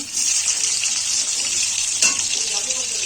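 Capsicum sizzles and fries in hot oil seasoned with whole garam masala and bay leaves, a steady broad hiss with a brief louder crackle near the end, no voices present.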